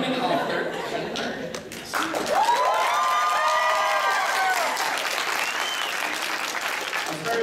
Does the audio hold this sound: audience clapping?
yes